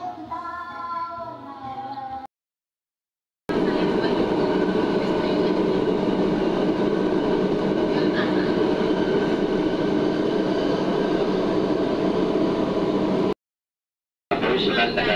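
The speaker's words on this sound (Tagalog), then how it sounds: "Nakasakay ako ngayon sa MRT patungong airport." Riding the MRT train in Manila toward the airport, a continuous loud rumble of rail cars and wheels on track fills the carriage, with a short gap in the sound and a voice speaking early on.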